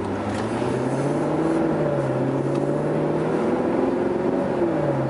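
A 2012 Maserati GranCabrio Sport convertible with sports exhaust driving along, its engine a loud, steady drone with gently shifting pitch, close and continuous with no talk.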